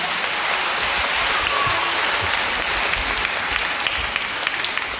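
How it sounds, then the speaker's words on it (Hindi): An audience at a church Mission Sunday prize-giving claps steadily, a dense even applause close by that lasts the whole stretch without talk. "हम लोग जोरदार ताली बजा देंगे।"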